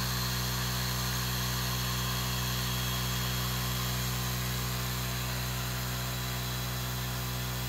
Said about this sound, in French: le laser est en train de découper, donc c'est pour ça qu'il a commencé à lancer la pompe un peu plus fort